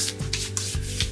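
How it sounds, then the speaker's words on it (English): Hands rubbing leftover serum from a face sheet mask into skin, a close soft swishing rub repeated in quick strokes about four times in just over a second. "Always take the excess of the mask and rub it on."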